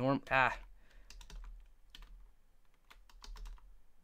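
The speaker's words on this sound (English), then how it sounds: "So I'm going to start to type in normal here" Quick, light clicks of typing on a computer keyboard come in short irregular bursts, quiet and close, after a brief spoken word at the start.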